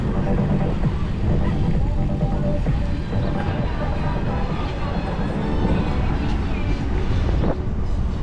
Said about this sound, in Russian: Капец, ветер дует. Встречный.